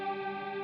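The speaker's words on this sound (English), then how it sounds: "so this is a multi-delay into a reverb, into a delay, and into another delay" A sustained processed tone passes through an effects chain of a multi-delay into a reverb and two further delays, giving a steady, smeared, chorus-like wash with no attack, heard alone for under a second.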